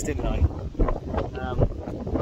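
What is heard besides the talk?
wind blowing on a hilltop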